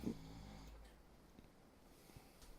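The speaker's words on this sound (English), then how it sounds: "Who's snoring right now? Oh, it's loud." A person asleep behind a couch snores in low, faint, rasping breaths that sound muffled and somewhat distant in an otherwise quiet room.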